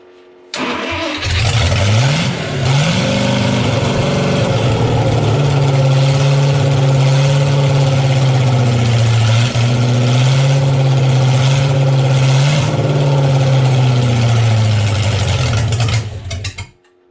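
A 241 Red Ram Hemi V8 cranks and fires for its first start, then settles into a loud, steady, rumbling idle close by that runs for most of the clip with no talking.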